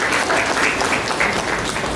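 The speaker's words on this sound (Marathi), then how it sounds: "जोरदार टाळ्या वाजवूया त्यांच्यासाठी" Vigorous applause from an audience at a Sant Rohidas Jayanti celebration, a thick steady wash of claps lasting a couple of seconds.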